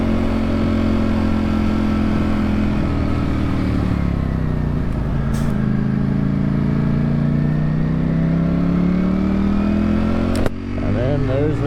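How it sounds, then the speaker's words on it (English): A 208hp superbike cruising on a freezing 28-degree ride home, its engine a loud, steady drone that slowly rises and falls in pitch, with heavy wind rush close to the rider throughout. "I love riding motorcycles."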